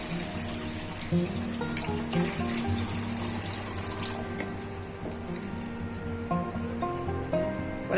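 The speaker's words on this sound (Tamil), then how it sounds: "ஒரு 5 கப்பு தண்ணி ஊத்தி இருக்கேன்." Water runs from a tap and splashes into a pot for vegetable soup, a steady gushing flow with light clinks and small knocks along the way.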